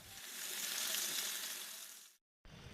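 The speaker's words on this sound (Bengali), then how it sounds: "এবার উল্টিয়ে অপর পাশ ভালো করে ভেজে নিব" Marinated poa fish fries in oil in a pan. A loud, steady, close-up sizzle rises and holds, then cuts out abruptly for a moment before it resumes, and nobody speaks.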